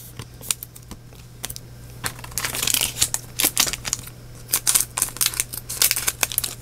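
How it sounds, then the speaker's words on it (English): Crisp scissor snips and rustling packaging as Pokémon card booster packs are cut open, a steady run of short cuts with crinkling in between, close by and with no talking. "I still can't believe I have the same scissors after all this time."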